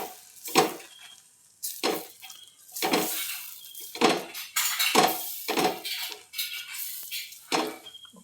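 A spatula spreads besan batter across a pan in a series of close, loud scraping strokes, about eight swipes with short pauses between, and sizzling faintly underneath.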